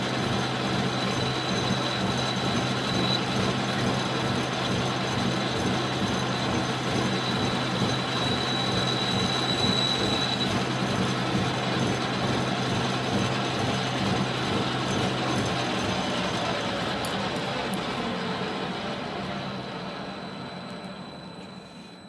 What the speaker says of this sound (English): I believe it's just final cut on the dovetail cutter here.